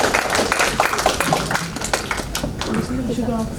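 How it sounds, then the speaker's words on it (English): An audience at a youth summit applauds after a group's presentation, with dense clapping throughout and voices talking over it near the end. "Please give applause."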